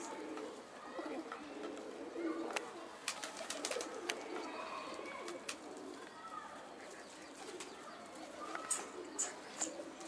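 Pigeons coo softly amid scattered wing flaps and clicks, a low, fairly faint bird chorus running throughout, with people occasionally talking in the background.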